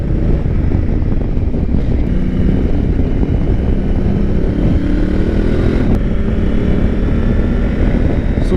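A Honda Africa Twin motorcycle engine drones loudly and continuously under heavy wind buffeting from on board, with rising pitch as it accelerates.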